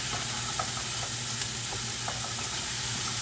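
Ingredients for tomato orzo soup saute in a pan with a continuous soft sizzle and light crackle, fairly quiet and steady, without talk.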